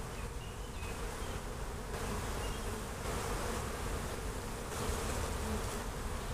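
Honeybees in an open 18-frame long hive drone in a dense, continuous buzz during an inspection, close and steady throughout with no voices.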